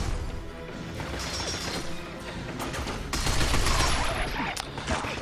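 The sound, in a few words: gunfire shooting robots in the video game Binary Domain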